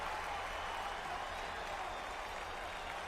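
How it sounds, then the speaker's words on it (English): A crowd gives a mock cheer at Comiskey in a PC baseball game pitting the 1919 Chicago White Sox against the 1975 Cincinnati Reds. It comes through as a steady, even wash of distant crowd noise with no voices over it. "A mock cheer goes up here at Comiskey"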